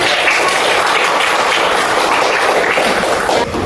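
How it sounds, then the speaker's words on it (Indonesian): Audience in a group gathering applauds a group of participants, a continuous loud, dense clapping that stays steady from start to finish without any voices. "Beri tepuk tangannya buat teman-teman."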